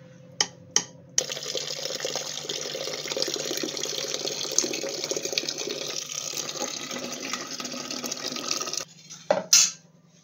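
Steady stream of tap water pouring into a cooking pot while making shevala bhaji, a continuous hiss lasting several seconds, framed by a few brief clanks of the pot at the start and end.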